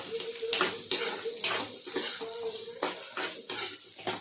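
Cashews, ginger and garlic going into hot oil to fry until golden, with a steady sizzle under repeated loud clinks and scrapes of a spoon stirring against the pan.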